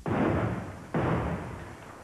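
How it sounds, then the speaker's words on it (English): Two heavy booming blasts from a movie trailer, about a second apart, each hitting hard and then rumbling off into a long decaying roar. "Lots of explosions."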